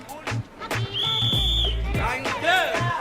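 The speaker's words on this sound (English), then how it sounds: "they blow a whistle to let everyone know when the queue is cleared" Bright, shrill whistle blasts ring out in a crowded, busy Malaysian restaurant, sounding over music and background noise, with a voice heard briefly.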